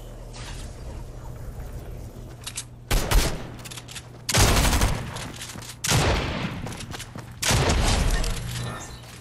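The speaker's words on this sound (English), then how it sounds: "I heard shooting." Gunfire in the Fortnite video game arrives in four loud bursts of rapid shots separated by quieter stretches, with a faint low hum underneath.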